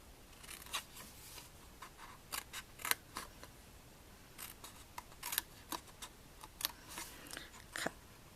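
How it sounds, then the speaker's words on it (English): Scissors snip through paper along score lines while making Stampin' Up! Halloween test tube treat boxes, a quick irregular series of crisp close cuts with short pauses between them and no talking. "Okay, and then we're going to just cut up these here score lines."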